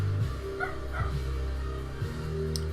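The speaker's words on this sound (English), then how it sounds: "If you hear a dog barking, that is my little miniature schnauzer thinking there's a fox." A small miniature schnauzer barks indoors in a few short, muffled yaps, set far back under a steady low hum.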